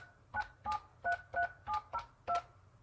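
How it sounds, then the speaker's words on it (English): A Grandstream GXP1630 IP phone sounds seven DTMF keypad tones while a test call is dialed, each a short steady two-pitch beep in an even rhythm, close and clear over a low background hum. "We're going to place a test call to my cell phone, okay, to ensure that that everything's set up properly."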